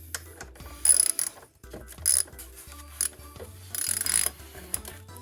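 A hand ratchet clicks in short bursts while loosening bolts on a 2005 Honda CRF150F dirt bike, with pauses and metallic handling noises between the close, crisp ratcheting runs.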